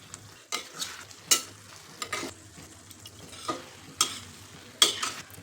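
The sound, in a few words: stirring frozen peas and paneer into frying biryani vegetables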